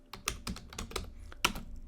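Quick bursts of typing on a computer keyboard while entering an image search for a holiday slideshow, with several distinct key clusters in an irregular rhythm, close and moderately loud with no talking.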